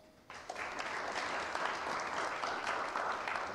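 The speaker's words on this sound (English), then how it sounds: "Let's give all of them a round of applause." A panel event audience on Bank Secrecy Act reform breaks into a round of applause for the panelists, starting abruptly and continuing as a steady, dense wash of clapping at moderate level.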